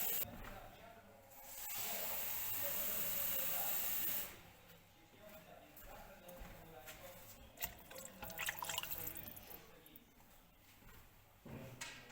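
Water rushes into a cooking pot for chicken broth (rosół) with a loud hissing spray for a couple of seconds, then gives way to faint drips, clinks and low kitchen noise.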